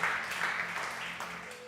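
Applause from a church congregation, a steady patter of clapping hands for a moment before fading slightly.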